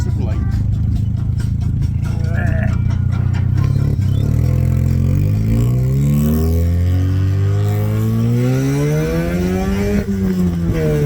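An Austin Healey Sprite towing a light motorcycle trailer, its engine revving and accelerating through the gears with rising and falling drone close to the microphone, while someone talks over the engine noise.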